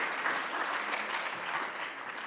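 Audience applause at a startup and industry panel conversation, a steady wash of clapping from a crowd that holds at even loudness throughout the short stretch, with no talking over it.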